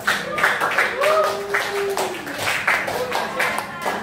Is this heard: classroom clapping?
yes